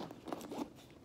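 A zipper on a Louis Vuitton Palm Springs backpack being opened, giving a short, quiet, scratchy run of zipping with a few crunchy ticks, close by and without talk.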